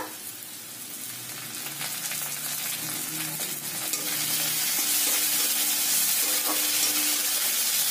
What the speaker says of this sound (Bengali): পেঁয়াজ আদা রসুন ভালো করে ভাজা হয়ে গেছে